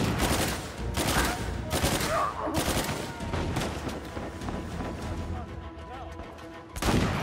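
Bursts of gunfire in the video game Uncharted 4: A Thief's End, rapid fusillades and shots rattling through a loud, busy firefight that runs throughout.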